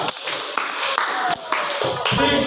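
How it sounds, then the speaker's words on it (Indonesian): A classroom group claps for a presenting team in bursts of uneven applause, close and fairly loud, with voices and cheering mixed in among the claps. "semangat tepuk tangan untuk kelompok 3."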